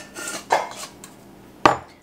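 A utensil stirs pepper, onion powder and garlic powder together in a bowl, making a few light scrapes and two sharper clinks, close and alone.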